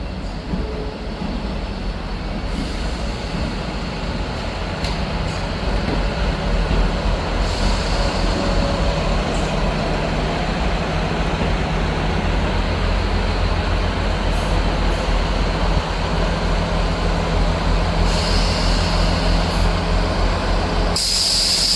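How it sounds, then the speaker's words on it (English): A ScotRail train from Glasgow Queen Street pulls into Dundee station with a loud, steady low rumble of engine and wheels, punctuated by hissing air-brake bursts and squeals, sustained throughout with no voices. "Arriving in now is the 1402 Scotrail service from Glasgow Queen Street to Aberdeen."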